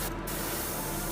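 Paint is sprayed onto a Spitfire Mk.IXc model kit in one steady, close airbrush hiss that holds constant for about a second.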